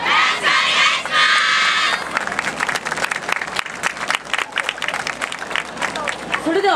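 A crowd at the Inuyama Yogei dance festival cheers and shouts loudly for the team Gokutsu. Dense, crisp rhythmic clapping follows and carries on close and strong, with occasional voices mixed in.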